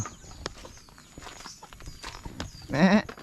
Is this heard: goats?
yes